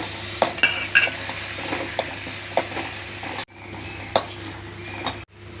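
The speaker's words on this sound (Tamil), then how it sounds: "வெங்காயம் 4 பல் பூண்டு போட்டு வதக்கிட்டு இருக்கிறேங்க" Sliced onion and four garlic cloves sautéing in a pan for radish chutney, a steady close sizzle with clinks and scrapes of a spatula stirring, the frying briefly cutting out twice near the end.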